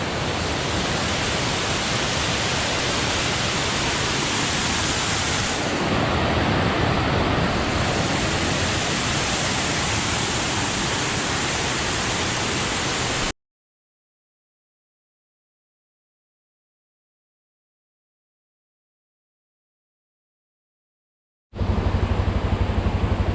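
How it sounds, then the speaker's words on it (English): Humogo waterfall on Nias island roars as a steady, loud broadband rush of falling water, cut off by a long silent gap before the roar resumes near the end. "And this is waterfall Komogu."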